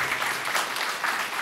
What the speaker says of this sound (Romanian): Și un rând de aplauze pentru ei, pentru toți profesorii care m-au ajutat.